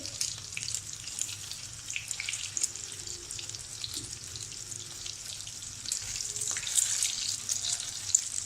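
Mutton shami kababs fry in a pan with a steady, close sizzle of hot oil that grows slightly louder toward the end, with no voices.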